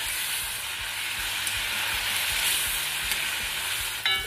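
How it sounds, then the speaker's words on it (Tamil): Chicken pieces deep frying for chicken manchurian, a dense, loud, continuous hiss of bubbling oil with a faint low rumble beneath, steady and close. "இதை வந்து வறுத்துக்கலாம்."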